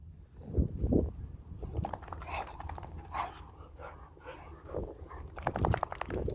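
Two dogs play rough, growling, snarling and panting in a close, busy scuffle that continues for several seconds with short yelps and huffs.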